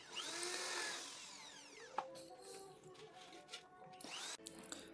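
A power drill bores holes into an aluminium spigot for a photo frame, with whining, rising and falling tones, a sharp click near the middle and a second short burst of drilling toward the end, close and fairly quiet.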